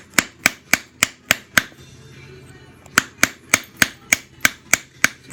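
Flintknapping with a whitetail antler tine punch, a steady series of sharp, evenly spaced tapping strikes with a short scraping pause midway, then more tapping, close and crisp.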